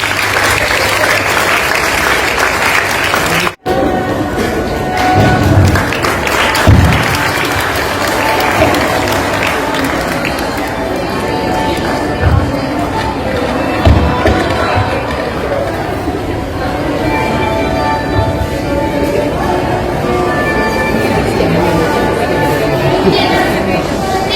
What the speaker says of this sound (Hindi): तालियों के साथ अपने साथियों की हौसला अफजाई कीजिए